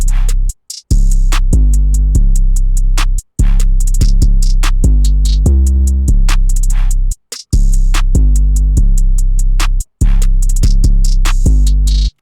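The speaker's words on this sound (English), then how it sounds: "And then with the 808 and the drums, it sounds like this together." Trap beat built in FL Studio in an ethnic style: booming 808 bass notes with snare, hi-hats and melodic stabs, loud and continuous for about twelve seconds, with brief dropouts and no talking.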